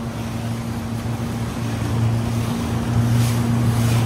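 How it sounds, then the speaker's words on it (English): A supercharged Sea-Doo personal watercraft runs on Lake Keowee, giving off a steady, moderately loud engine drone. Wind and splashing water noise sit over it, growing slightly louder toward the end, with no talking. "the black Sea-Doo jumping across at the end"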